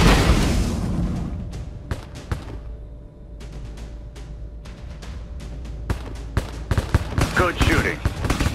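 Drone gunfire in the mobile video game Drone Shadow Strike 3, sharp scattered shots and thuds, some heavier booms, over a steady low hum, with radio-style voice chatter near the end.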